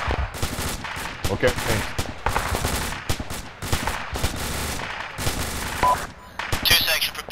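Troops fire toward the northeast in a military exercise, with rapid, repeated bursts of gunfire cracking close by, broken by short pauses, as voices talk amid the shooting.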